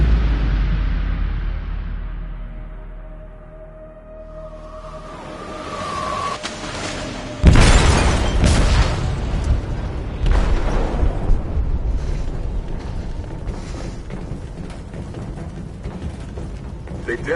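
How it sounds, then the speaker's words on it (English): A sudden loud explosive blast in a ship's hold in a video game, a sharp burst followed by a long rumbling, crackling roar that fades slowly, after a quieter stretch of low drones. "They detonated an explosive in the hold"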